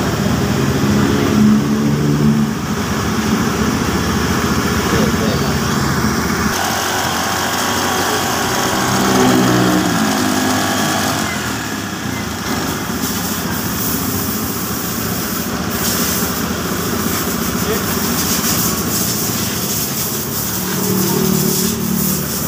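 A Honda BeAT FI scooter, just repaired after a half-damaged spool pusher made it stall and run jerkily, idles with a steady, even engine drone that holds loud and unbroken throughout.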